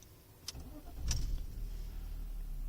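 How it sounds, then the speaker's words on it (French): A BMW E46 engine is started after a couple of clicks. The starter cranks briefly, then the engine catches and settles into a steady low idle, heard close up from inside the car. "je vais démarrer le moteur d'ailleurs, tant qu'on y est."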